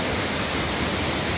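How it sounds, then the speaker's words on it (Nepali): Water of the Bagmati River pouring down from its source spring at a mountain headwater, a steady broadband rushing wash with no pauses, close and continuous. "कस्तो माथि टपबाट आइरहेको छ पानी"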